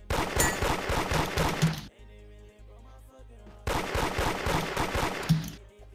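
Rapid gunfire from Roblox Da Hood comes in two dense, loud bursts of shots with a short pause between them and no talk.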